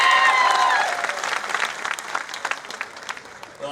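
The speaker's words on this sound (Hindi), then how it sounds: "हमारे ताली बजाओ तो अच्छी बजाओ" Loud audience applause at a cultural hall event after a Banjara dance performance, starting as a full burst and gradually thinning into scattered claps, with a short musical tone audible at the very beginning.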